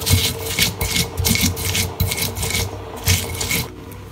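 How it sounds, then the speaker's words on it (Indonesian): Spice paste for sayur asam is ground by hand, giving loud, close, rhythmic rasping and rubbing strokes repeating steadily. "kita siap untuk menguluk, menghaluskan bumbu"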